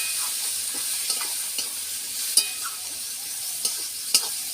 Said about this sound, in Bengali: এবার আমি ভালো করে কষিয়ে নিই